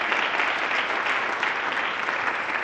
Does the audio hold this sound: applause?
yes